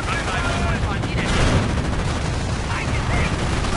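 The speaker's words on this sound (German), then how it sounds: "Der Stützpunkt wird beschossen." Gunfire erupts on a base in the video game Company of Heroes: Tales of Valor, a dense, loud, unbroken barrage of rapid shots and blasts filling the whole stretch.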